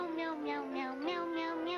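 A cat meows in a sing-song, tune-like run of repeated calls from a Meow Mix cat food commercial, close and steady with no talking over it.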